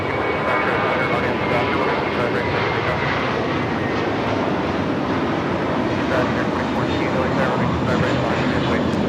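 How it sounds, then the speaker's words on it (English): A JetBlue Airbus A321 jet on its takeoff roll at LAX, bound for Fort Lauderdale, gives a loud, steady, broadband engine roar that holds strong and unbroken throughout. "This is a Blue Mentality taking off to Fort Lauderdale. The A321 JetBlue Flight 100."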